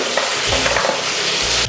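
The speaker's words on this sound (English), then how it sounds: "So now we're going to put the fish inside of the pan, away from yourself," Cod fillet lowered into a hot frying pan, a loud, dense, continuous sizzle that fills the whole moment, close and steady, with slight crackles.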